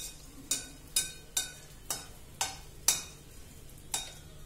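A piece of edible gum fries in hot ghee, giving a faint, steady sizzle broken by about nine crisp stirring scrapes or pops spaced roughly half a second apart, close and quiet.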